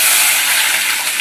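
Onions drop into a hot pan for home-cooked chicken and give a loud, bright, continuous sizzling hiss close by, with no voices over it.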